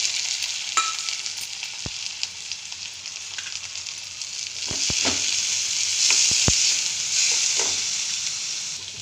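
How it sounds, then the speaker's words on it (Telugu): Onions, turmeric and finely chopped tomato fry in a pan, giving a steady close hiss of sizzling oil with a few sharp clicks of stirring scattered through, swelling slightly louder toward the end. "ఇప్పుడు మనం కాస్త పసుపు వేసుకోవాలి చిన్న టమాటో వేసుకోవాలి సన్నగా కట్ చేసి"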